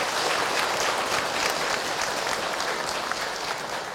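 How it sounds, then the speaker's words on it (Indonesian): An audience at an Islamic dakwah gathering claps steadily for several seconds, a dense and even wash of hand claps with no voices on top. "Tepuk tangan buat Bunda yang bertanya."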